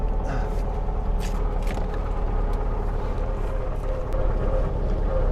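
A 1967 VW Karmann Ghia engine idles in first gear with a steady low rumble, with wind buffeting the microphone throughout and no voices.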